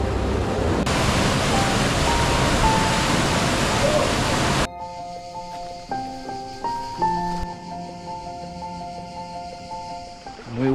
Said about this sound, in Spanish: hoy me encuentro en el río Genal, a la orilla